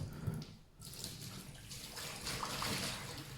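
Sanitizer water pours out of a homebrew bucket into a kitchen sink, a continuous soft trickling and gushing stream that swells slightly toward the end, heard close with no talking.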